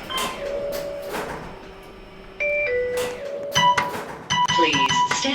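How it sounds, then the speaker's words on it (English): An elevator at the Otis lift centre chimes and its doors slide and thump shut, with tonal beeps and mechanical clunks at close range. "Please stand clear of the closing door."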